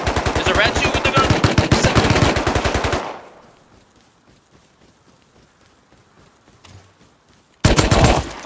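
Video game gunfire: a loud, rapid burst of automatic shots for about three seconds, a quiet stretch with faint sounds, then another sudden loud burst at the end.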